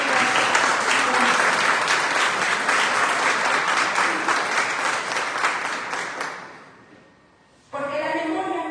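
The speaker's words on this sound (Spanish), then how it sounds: "Un fuerte aplauso para cada uno de ustedes." Strong audience applause at a memorial tribute ceremony, dense sustained clapping that fades into a brief pause before a speaker begins talking.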